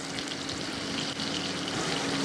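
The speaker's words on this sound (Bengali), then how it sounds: "ভাজতে দিয়ে দিলাম।" Jackfruit and potato chunks, cut large, fry in hot oil with a continuous bright sizzle, steady and close throughout.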